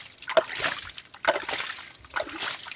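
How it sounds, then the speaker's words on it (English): Creek water is splashed with a small shovel onto a gravel bank while digging for sapphires, three quick wet splashes about a second apart, close and moderately soft. "splash the water up on the bank"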